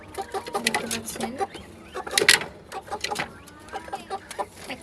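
Tiger-breed chickens about two and a half months old clucking close by in a farm pen, with repeated short calls and bursts scattered throughout, over a faint background murmur.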